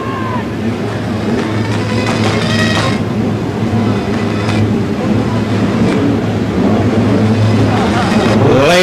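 Formula 2 stock cars rolling slowly around the track at the 1998 World Final at Swindon, a steady low engine rumble with idling and light revving from the pack, loud and continuous, with a voice over it.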